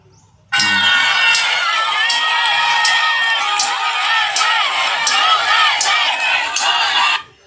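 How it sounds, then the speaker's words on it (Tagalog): A large political rally crowd chants and shouts in unison, loud and sustained, with repeated rhythmic surges of many voices for several seconds before cutting off. "Sumisigaw talaga ng Duterte"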